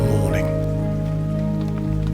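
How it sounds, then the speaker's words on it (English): Rain falls steadily on an open umbrella, a close, continuous patter drumming on the fabric with a faint tonal hum underneath. "It basically rained all night"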